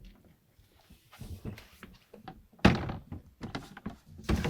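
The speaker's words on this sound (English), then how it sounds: "So when you unlock this door," A camper van door inside a Mercedes Sprinter is unlocked and opened, with a sharp loud thunk of the latch and door mid-clip, followed by further knocks and handling clatter nearby.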